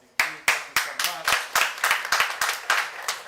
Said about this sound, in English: So we just want to give a round of applause to you.